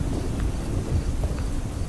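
Heavy rain with a low rumble of thunder roars steadily and fairly loudly throughout, a continuous storm wash with no voices.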